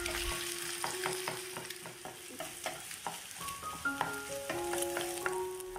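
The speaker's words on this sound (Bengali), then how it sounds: "এবার আমাদের ওই তেলের মধ্যে ডিমটাকে এরকম ঝুড়ো ঝুড়ো করে ভেজে নিতে হবে।" An egg fries in hot oil in a pan while being scrambled into crumbles, giving a steady sizzle broken by frequent scraping and clinking stirring strokes, close and moderately loud.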